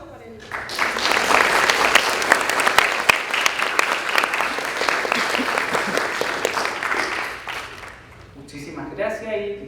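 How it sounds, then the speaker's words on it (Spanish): Audience at a lecture on asphalt rejuvenators breaks into sustained applause, dense hand clapping close and steady for several seconds before fading, followed by a voice speaking. "Un gran aplauso para el..."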